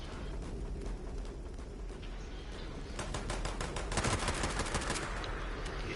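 Rifle gunfire rattles in the video game Fallout 76 Nuclear Winter, a dense run of rapid shots and bursts over a steady loud background roar, intensifying toward the middle.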